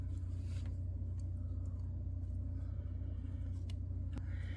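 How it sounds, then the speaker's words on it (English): A freeze dryer runs with a steady low mechanical rumble throughout, like a compressor motor nearby, with faint clicks and knocks over it. "you can hear the freeze dryer running in the background getting ready for this"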